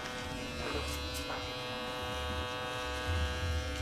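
An electric hair trimmer buzzes steadily up close while cutting a taper fade, a continuous droning hum with slight shifts in pitch as it moves through the hair.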